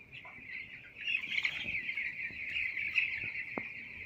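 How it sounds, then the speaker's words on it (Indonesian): Chickens clucking and calling beside a toll road construction project, a continuous high-pitched chorus of birds with a few sharper calls rising above it. "Kondisi ayam di samping proyek"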